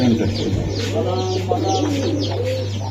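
Pigeons at a Bangladeshi pigeon seller's, including racer and local gola breeds, cooing steadily over a constant low electrical hum, with soft overlapping coos and faint chirps throughout.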